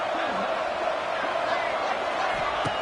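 A stadium crowd at a football game on third down roars in a steady, dense wash of cheering that holds at an even level throughout, with no clear voice standing out.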